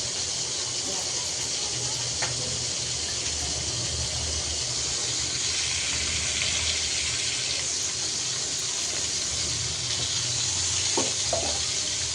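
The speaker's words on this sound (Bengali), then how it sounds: "এখন তো মাছটাও ভেজে নিচ্ছি।" Fish frying in a pan at home, a steady broad hiss and sizzle running throughout at moderate level, with faint background voices and a couple of brief clinks.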